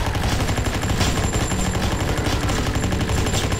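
Sustained, dense automatic gunfire from the zombie shooter game ZIC Zombies in City: rapid shots blur into a loud, steady clatter that runs through the whole stretch with no pauses.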